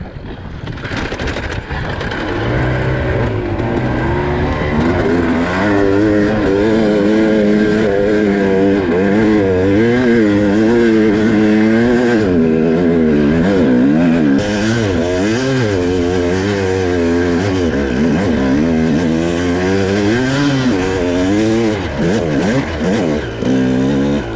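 A two-stroke KTM 300 dirt bike revs hard on a hill climb while starved of fuel with the gas half closed, its loud engine rising and falling in repeated throttle surges that stay close and continuous.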